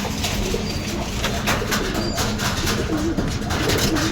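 Household pigeons coo in a soft, continuous murmur over a dense, noisy background, close by and steady without clear pauses.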